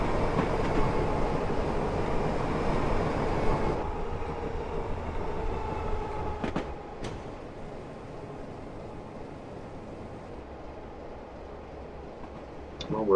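Chatham spoil train of wagons rolling into a reception siding, a steady loud rumble of wheels and rail noise that eases and quietens midway, with a few brief squeals and clanks toward the end.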